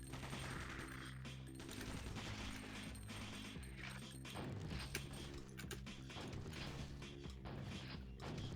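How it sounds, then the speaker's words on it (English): A weapon in Alien Shooter 2 fires in rapid, continuous bursts, mixed with mechanical clanks and crashes, at a low, steady level. "take like 100 shots from a weapon like this to destroy"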